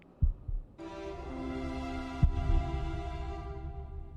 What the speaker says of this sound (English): There you go, the heart beating again